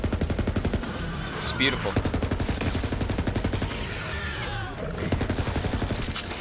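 Hollow point gun firing in Borderlands 3 on PS4: loud, rapid, evenly spaced automatic shots run through the whole stretch with a brief pause, while a voice speaks a word over the fire.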